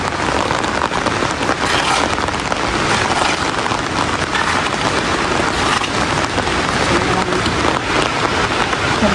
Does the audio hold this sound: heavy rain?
yes